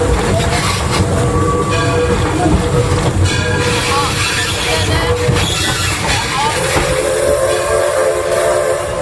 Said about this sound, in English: Ride the rails with a steam locomotive pulling the train.